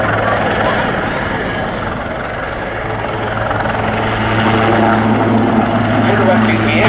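Wildcat HMA-2 helicopter displaying at the Duxford Summer Air Show, a loud steady rotor and turbine drone with a low throbbing blade beat, while an announcer talks over it.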